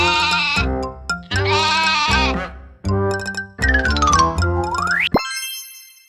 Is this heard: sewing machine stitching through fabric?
no